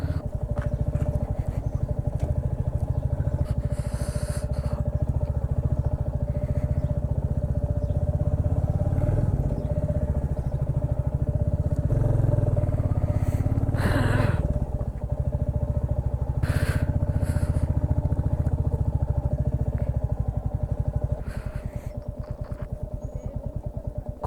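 A motorcycle hums steadily on a morning ride to Parigi, its mid-pitched engine drone constant and close with occasional clattering bumps from the road.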